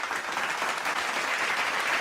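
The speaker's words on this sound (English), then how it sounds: "Clapping, cheers." A clapping-and-cheers sound effect fired from the Riverside podcast recording software's media board, a steady, even wash of applause from a crowd with no pauses.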